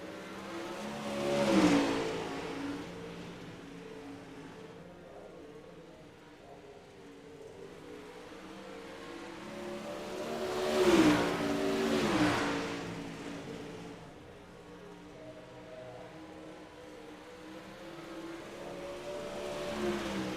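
A dirt late model race car engine on a qualifying lap, rising and falling as it passes, with two louder swells about ten seconds apart over a steady distant roar.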